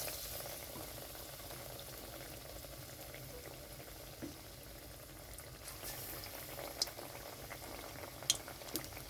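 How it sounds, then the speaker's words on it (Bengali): Pointed gourd coated in gram flour frying in oil, a faint, steady bubbling sizzle with occasional soft pops and clicks toward the end, quiet and without talk. "বেসনটা ডুবানো হলে তারপরে এটাকে ভাজতে দিয়েছি"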